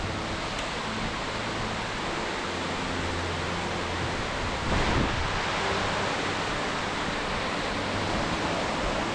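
A high river rushing beneath a stone-arched bridge on a former railway walk between Threlkeld and Keswick, a loud, steady broadband roar of flowing water that swells slightly midway, continuous with no voices.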